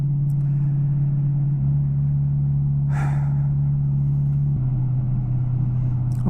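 Steady drone of a car cruising on a highway at about 70 mph, a constant low engine and road hum with a brief breathy sigh inside the cabin partway through.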